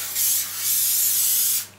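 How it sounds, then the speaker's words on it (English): A steady aerosol cooking spray hisses in two bursts into a cake pan, close and fairly loud, with a brief pause between them. "again put some spray"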